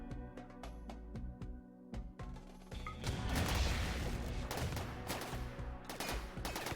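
Gunfire from a battle with mechs in the RimWorld video game: rapid sharp shots in bursts, then a dense crashing barrage of overlapping fire, fairly close and without talk.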